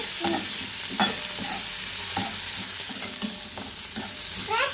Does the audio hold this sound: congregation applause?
no